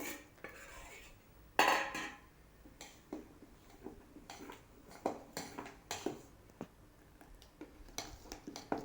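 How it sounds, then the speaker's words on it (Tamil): A spoon clinks and scrapes in a bowl while wheat flour is mixed into rice flour batter for godhumai dosa, with irregular sharp taps and scraping strokes, close and moderately quiet, without talk. "இப்போது கோதுமை மாவை அரிசி மாவில் மிக்ஸ் பண்ணிக்கலாம்."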